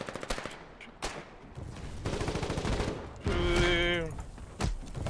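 Rapid automatic gunfire bursts out in a video game, with loud repeated shots, some thuds and a sustained rattling stretch near the end, all close and dense.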